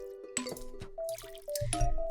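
Watering plants in Plants vs. Zombies gives a short run of bright, tonal drip and splash effects, a few quick droplet blips and a fuller liquid pour near the end, heard up close with no talk.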